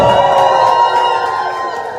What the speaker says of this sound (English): a round of applause for yourself